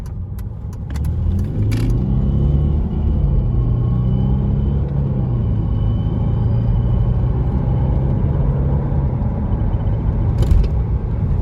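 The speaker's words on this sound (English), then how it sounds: "Let me just do a quick acceleration to get on the highway here." A 2012 Mercedes-Benz S350 Bluetec 4Matic diesel sedan (W221) accelerates onto a highway, heard from inside as a loud, steady low engine drone rising through the run, with a few light rattles at the start and end.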